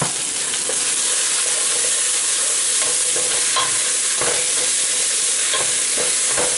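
Tomato and spices fry and get stirred in a pot for mutton biryani, a steady bright sizzle and hiss with scraping stir strokes popping through, close and continuous with no talking.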